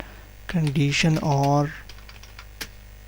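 A computer keyboard tapped in a handful of sparse clicks beside a brief spoken voice, with a constant electrical hum beneath.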